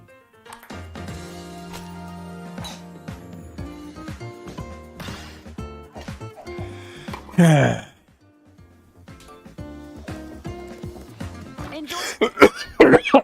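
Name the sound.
man coughing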